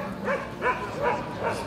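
A Karakachan dog, a young one around seven months old, gives four evenly spaced barks at an outdoor dog show, close and clear over a low background murmur.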